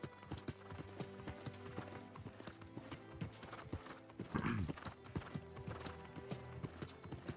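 Clip-clop of a riding mount's hooves in the New World game, a steady rhythmic trot with a whinny near the middle, set over game music.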